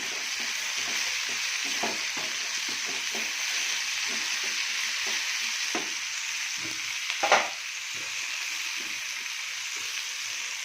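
Small onions, chili and tamarind sizzle steadily in a hot pan, with a continuous close frying hiss broken by soft stirring scrapes and one brief louder clatter near the end.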